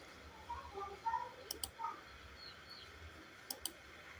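Computer mouse clicks while drafting in AutoCAD: two quick pairs of sharp, close clicks over a faint background, with soft chirpy tones early on.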